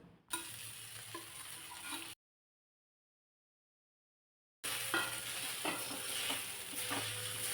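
Potatoes and soaked sago fry in a pan with a close, crackling sizzle while a spatula stirs and scrapes. The sound drops to total silence for a couple of seconds midway, then the sizzling and stirring return.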